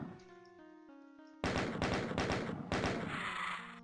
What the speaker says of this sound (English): Chain gun is a good weapon at this range.